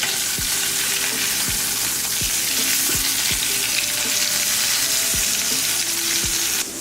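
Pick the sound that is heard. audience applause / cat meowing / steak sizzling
steak sizzling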